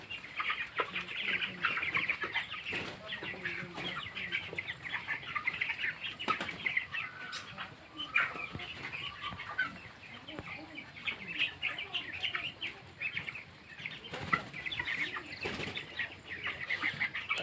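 Nineteen-day-old broiler chickens in a poultry shed at dusk give soft continuous clucks and chirps with occasional bursts of wing flapping, a steady low flock murmur throughout.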